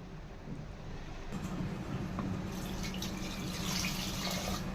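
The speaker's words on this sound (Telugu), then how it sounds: "ఇందులో ఇప్పుడు వాటర్ వేసుకుందాం." Water is poured from a glass into mashed lentils for brinjal dal, giving a steady splashing, running-water wash that swells after a quiet start and continues to the end at moderate loudness.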